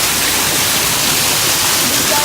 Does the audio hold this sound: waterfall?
yes